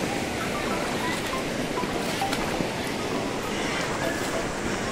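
Broadband rushing river water in the Paitan River, Naujan, Oriental Mindoro, where people are bathing, a steady close wash of flowing and splashing water with no clear speech over it.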